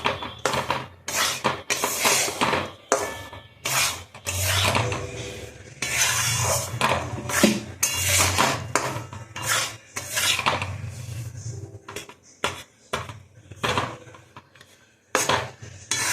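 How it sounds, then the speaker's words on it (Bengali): Chopped cashews get stirred in a pan with roasting flour, giving repeated scraping and rattling strokes of a utensil against the metal in an uneven rhythm, close and fairly loud, with no talking. "টুকরো করে কাজু বাদামটাকে আমি এর মধ্যে ঢেলে দিলাম। দিয়ে আমি ভালো করে এটাকে নাড়ছি।"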